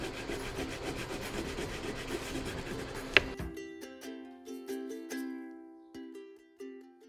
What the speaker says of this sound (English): put my crayon on top, and rub